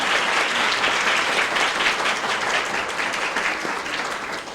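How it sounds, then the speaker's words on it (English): Loud, dense applause fills a Teacher of the Year ceremony as the audience stands to honour the teacher, steady and close before gradually tapering off. "let's give her a round of applause again"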